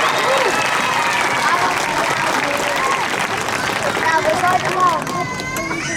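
At a sea lion show in a West Midlands safari park, an audience cheers and applauds loudly, with clapping, whoops and crowd babble filling the space and easing toward the end.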